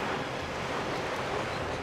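Water rising in The Legend of Zelda: The Wind Waker, a steady rushing wash like surf or wind, constant and fairly quiet with no talking over it.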